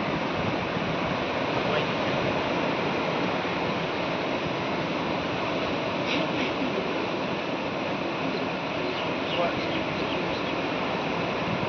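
Steady roar of sea waves rolling onto the shore at Aksa Beach, constant and full, with no distinct breaks or voices standing out.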